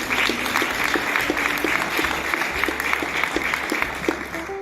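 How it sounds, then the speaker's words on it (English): An audience at an education talk applauds itself, a dense, steady wash of many hands clapping that fills the whole stretch at even loudness. "Can you give yourselves a round of applause?"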